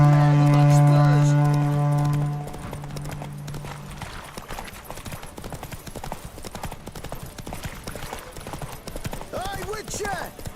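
Hooves of Geralt's horse Roach pound in a steady galloping clip-clop during a race in The Witcher 3, running under a loud sustained tone at the start, then continuing amid game sounds and voices.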